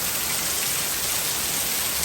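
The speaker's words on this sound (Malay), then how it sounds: "Hujan dah lagi semakin lebat." Heavy rain driven by strong wind at Sungai Petani, Malaysia, pours down as a dense, constant roar of drops, loud and unbroken, with no voices.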